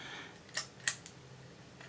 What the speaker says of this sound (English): Shutter fires.